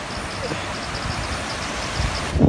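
Steady wind blowing across an outdoor microphone, a broad constant rush with low rumble, swelling briefly near the end.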